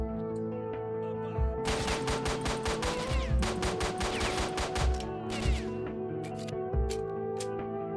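Bursts of rapid gunfire from the video game S.T.A.L.K.E.R., rattling in fast volleys then tapering to single shots, over a steady background hum.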